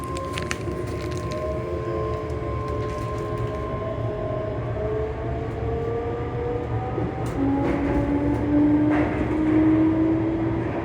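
A ScotRail Class 385 electric train's traction motors hum steadily from on board, with rising whining tones over the continuous rumble of the carriage, louder toward the end.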